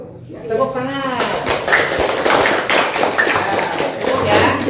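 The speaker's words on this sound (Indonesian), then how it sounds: "Tepuk tangan." A classroom of pupils clapping together on cue, a quick burst of claps that thins out as children talk and call out over it, fairly close and lively.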